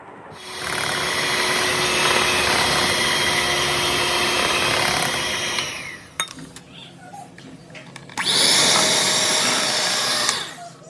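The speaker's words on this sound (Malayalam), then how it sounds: "ഇനി ഇതിനകത്തേക്ക് നമ്മൾ ആദ്യം അരച്ച് വെച്ചിരുന്ന മൈദപ്പൊടി കുറച്ചായിട്ട് ഇട്ടിട്ട് നന്നായിട്ട് മിക്സ് ചെയ്തെടുക്കണം" Electric mixer beating flour into red velvet cake batter, a loud continuous whirring that stops briefly with a few clinks against the bowl, then starts again for another run.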